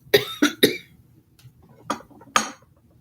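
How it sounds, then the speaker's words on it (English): Several short, sharp coughs sound close by: three in quick succession, then a pause and two more, each a dry burst. "Cough, cough, cough."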